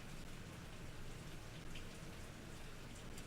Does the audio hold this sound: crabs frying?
no